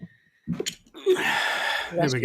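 A single sneeze bursts out close by amid a few brief spoken words.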